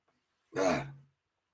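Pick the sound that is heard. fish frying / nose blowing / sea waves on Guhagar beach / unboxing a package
nose blowing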